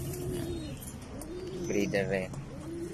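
Racing pigeons coo steadily in their loft, a low throaty burbling close by, while someone talks over them.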